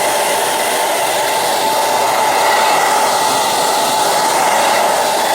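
Hair dryer blowing on a wet watercolor painting, a loud, steady close whoosh that holds without a break.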